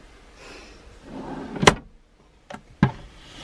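A drawer in a 2008 Swift Conqueror 540 caravan is pulled open with a soft sliding rumble, then two sharp knocks and a clack as it stops, close in a quiet interior.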